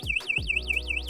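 An e-bike anti-theft alarm wails loud and close, its pitch sweeping up and down in rapid repeating cycles. A low buzzing hum sits underneath.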